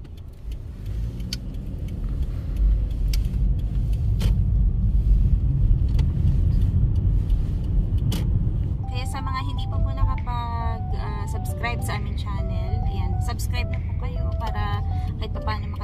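A City of Regina garbage truck drives past on a city street, a loud low engine rumble that swells and then holds steady, with voices talking over it in the later half.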